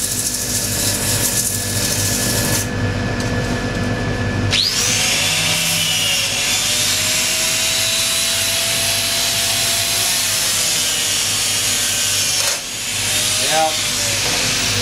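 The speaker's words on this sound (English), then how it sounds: "This is going forward the way you usually sand." Sandpaper runs against a wooden platter spinning on a wood lathe, giving a steady broadband hiss over the constant motor hum, with someone talking through it.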